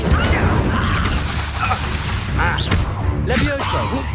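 Incendio fire spell cast in Hogwarts Legacy on PS5: a burst of booming, crackling combat effects under busy battle noise, with character voices and pitched vocal sounds mixed throughout.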